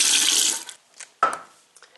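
Water is poured into a stovetop coffee maker, a loud splashing stream for most of a second that trails off, followed by a few small clinks and taps of the pot.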